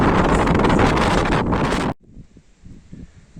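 Heavy wind roars and buffets the microphone for about two seconds, then cuts off abruptly, leaving quieter outdoor rustling.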